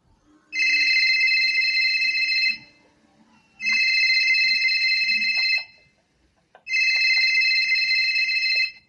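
A telephone rings three times as a call is placed, each long electronic trill lasting about two seconds and separated by roughly a second of near silence, loud and clear with no talking.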